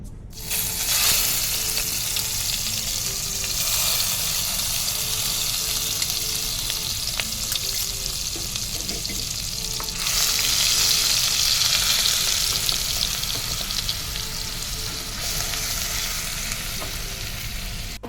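Chopped onion fries in white cooking oil, a loud, steady close-up sizzle that runs the whole time with occasional stirring scrapes and no voices.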